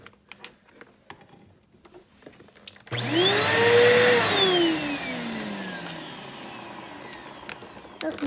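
A Hoover 6583 vacuum cleaner with a customized hose starts up after a few faint knocks, its motor whining up to a loud, steady roar that eases slightly and keeps running alone.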